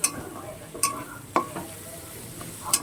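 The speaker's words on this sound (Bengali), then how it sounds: "এটাকে আমি এই চিংড়ি মাছের সাথে পুরোপুরি ভেজে নেব।" Tomato frying with prawns in a pan, a steady close-up sizzle broken by four sharp spatula scrapes and clinks at irregular intervals as the mixture is stirred, with no talking.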